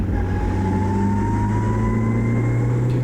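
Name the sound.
historical Formula Ford race car accelerating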